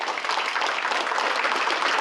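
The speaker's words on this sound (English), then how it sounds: "Maybe we can give them one more round of applause" A room of guests at a congressional luncheon breaks into sustained applause, with steady dense clapping from many hands throughout.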